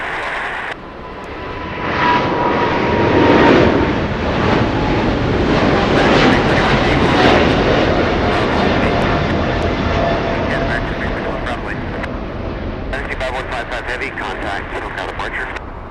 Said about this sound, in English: There goes the 777 freighter